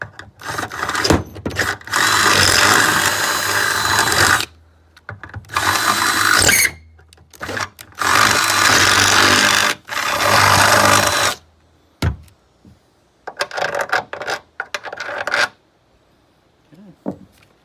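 A power drill with bits grinds into the aluminum of a 1436 jonboat to round out holes, running in several long loud bursts separated by pauses, then shorter stuttering runs near the end.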